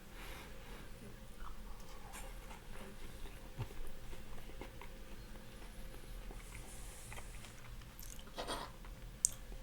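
Someone takes a small bite of a cheddar and smoked turkey schnitzel and chews it close to the mic, making soft, wet, rhythmic sounds at low volume, with a brief click near the end.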